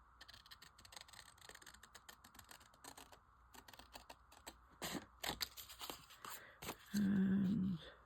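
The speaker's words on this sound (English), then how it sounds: "And I'm going to use the big scissor because I can" Large scissors snip through paper while a crayon-themed card is made, giving a faint series of crisp clicks and cutting sounds that grow busier midway, followed by a brief tonal hum near the end.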